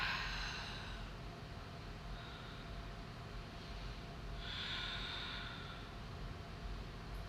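Slow breathing while holding a seated yoga twist with a bind. Two soft, airy exhales stand alone against a quiet room, one at the start and a longer one in the middle.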